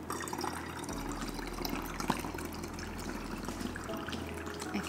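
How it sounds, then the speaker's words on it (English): Distilled water poured into a jar for a homemade cleaner, a soft continuous trickle and splash close by, fairly quiet with a faint low hum underneath. "And now we just want to add in some distilled water."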